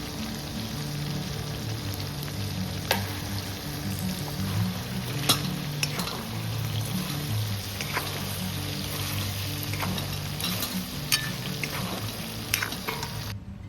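Tomatoes with salt cook in a frying pan, giving a steady, close sizzle with occasional sharp pops and stirring scrapes throughout.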